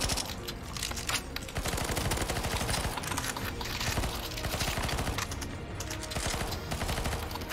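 Dense, continuous automatic gunfire from players shooting at a crystal in the CS:GO zombie escape map ze_eternal_journey_go, rapid overlapping bursts with sharp cracks, loud and close throughout, no talking.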